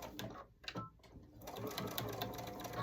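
A sewing machine stitches through a thick foam dish drying mat, starting after a few brief clicks and settling into a steady, close whirring run.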